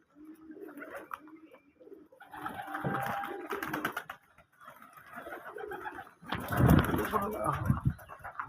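Domestic pigeons cooing close by in several soft, throaty phrases separated by short pauses, with a louder burst near the end and voices murmuring in between.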